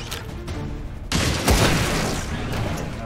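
A gunshot in the XCOM 2 video game lands as a sudden loud boom followed by a second sharp blast and a rumbling tail.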